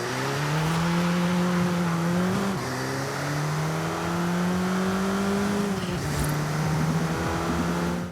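A Renault Megane with a 2-litre engine in Forza Horizon 5 drones steadily at a held pitch, with short dips and rises around gear changes, loud and close with no voices over it.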